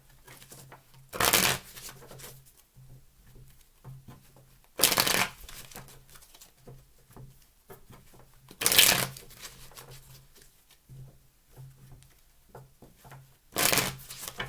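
Four separate bursts of tarot cards being riffle-shuffled during a reading, spaced several seconds apart, each a brief crisp flutter against a quiet room.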